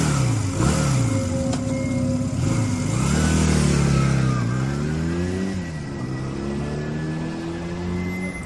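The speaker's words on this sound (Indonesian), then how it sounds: "Aku segera meraih motor dan berangkat." Motorcycle engine, an online motorcycle taxi setting off, rises and falls through several revving passes as it pulls away, loud and close with no talk.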